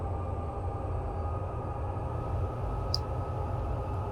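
Freight train locomotive on Sherman Hill in Train Sim World 2 spooling up under power, a steady low diesel rumble and drone, with a faint high tick partway through and no voices.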